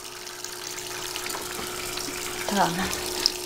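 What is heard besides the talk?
water running from a tap while washing clothes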